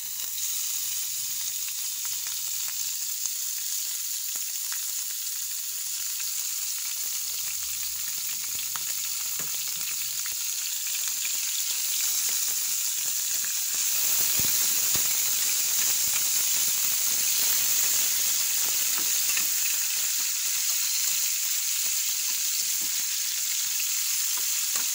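Pork sizzles and fries steadily in a pan, giving a constant hissing crackle that carries on without a break, with no one talking over it.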